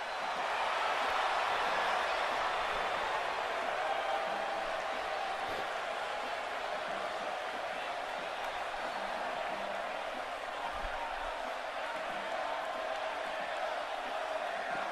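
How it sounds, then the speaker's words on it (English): An arena crowd in the WWE 2K19 wrestling video game keeps up a steady, dense roar of cheering throughout, loud and unbroken, with no clear voices above it. "And Michael, it sounds to me like this crowd already picked the one who they want to win this match"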